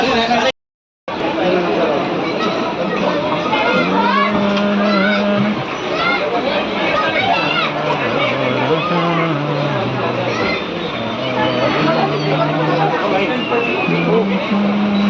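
Dense babble of many voices fills a crowded railway station platform as waiting passengers talk over each other without a break, broken only by a brief silent gap near the start.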